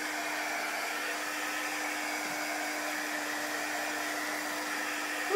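A hair dryer runs steadily on chalk paint over a wooden tray, a constant even whir with a tonal hum that holds close and alone for the whole stretch, rising slightly at the very end.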